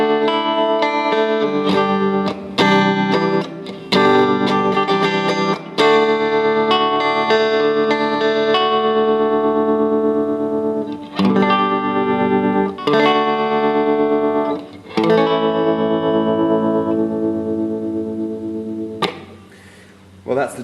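Electric guitar played through a Fender Twin amp with tremolo and reverb on, sustained chords and single notes pulsing steadily with a washy tail, loud and close, ringing out alone.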